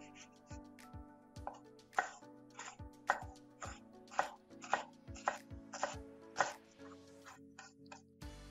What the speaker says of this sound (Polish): Cebulę kroimy w kostkę.